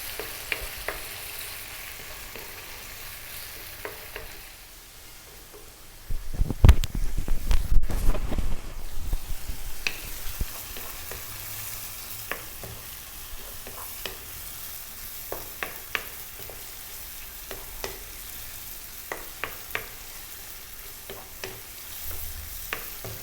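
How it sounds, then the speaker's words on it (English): Liver masala mixture dropped into a hot pan and fried, with a sudden loud sizzle that settles into a steady crackling hiss, broken by scraping and stirring clicks from a utensil. "we're now going to get our mixture that we made and drop it in. We're going to fry this around for about 5 minutes."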